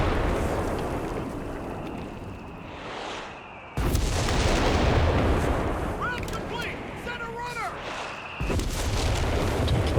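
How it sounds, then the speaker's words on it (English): Artillery barrage in the Company of Heroes 3 strategy game, heavy booming impacts arriving in bursts over continuous battle noise, with a commentator talking over them. "Close range barrage, it seems like."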